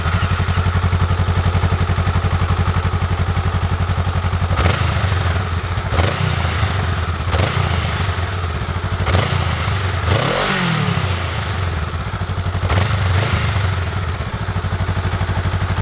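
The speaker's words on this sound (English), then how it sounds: "first I'll give you guys a sound check of the stock exhaust" A Honda Rebel 500 motorcycle on its stock exhaust runs close by with a steady low rumble, broken by about half a dozen sharp throttle blips that rise and fall, loud and alone.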